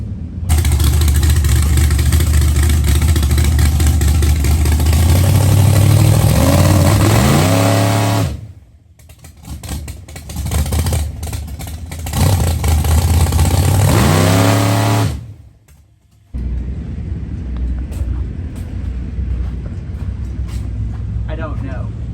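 Pro Mod drag race car engine at a drag racing event, loud and close, holding a rough idle, then climbing through hard revs with brief cutoffs between bursts before settling back to a steady idle.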